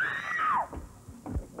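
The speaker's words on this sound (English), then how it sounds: "Would you actually please do a scream test for me?" A person lets out a single high-pitched scream on request that slides downward in pitch and fades, followed by a few brief low murmurs.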